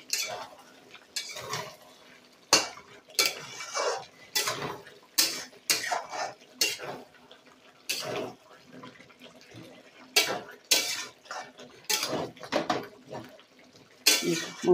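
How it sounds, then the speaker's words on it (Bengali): A utensil stirs jeera chicken in a pan, making repeated bursts of scraping and clattering against the metal, separated by short quiet gaps. "এই দেখুন, এবার নেড়ে দিতে হবে।"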